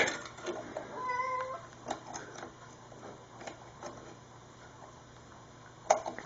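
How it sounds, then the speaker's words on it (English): A cat in heat meows in a workshop, several short, fairly faint yowls early on and another near the end, over a quiet background hum. "The cat is in heat, pardon the noise"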